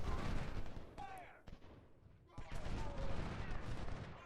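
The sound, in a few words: gunfire from Ultimate General Civil War video game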